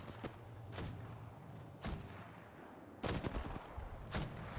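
Gunfire in the video game Apex Legends sounds as scattered sharp shots and short bursts at moderate distance, spread unevenly, with soft thuds in between and no voices.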